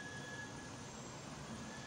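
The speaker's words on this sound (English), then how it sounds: "So that's my train that I'm missing there, I can hear." A train runs past the old Ashton Canal some distance away, giving a faint, steady rumble with thin metallic whines from the rails, and no voices.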